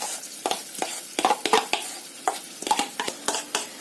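Tofu being stirred with sauce in a frying pan, with a soft sizzle under a series of close scraping and clinking strokes from a spatula against the pan in an irregular rhythm.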